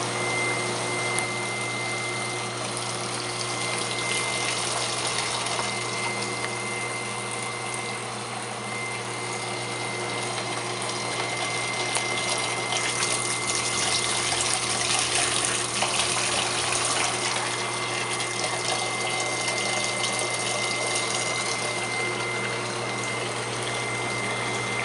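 Biodiesel pumped through a filter, a steady continuous whir and liquid rush with a constant motor hum, holding level for the whole stretch with no talking.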